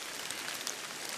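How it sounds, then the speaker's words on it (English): Light drizzling rain falling in the woods on a cloudy, overcast March day, a faint, steady patter with no voices. "It's a cloudy, drizzly, overcast day."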